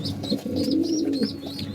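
A breeder's pigeon gives a low, steady cooing call that runs unbroken for under two seconds, close and alone with no voices over it.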